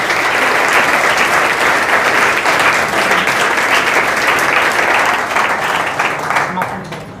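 A large seated audience at a motivational study lecture claps loudly and continuously in a thick wash of applause that tapers off near the end.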